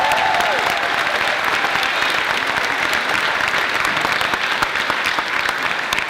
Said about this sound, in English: so give yourselves a huge round of applause